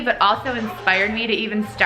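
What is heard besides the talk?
No everyday noises stand out.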